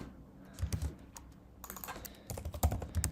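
Typing on a computer keyboard while coding a React Native layout. Rapid bursts of close, crisp key clicks are separated by a short pause and played alone without speech.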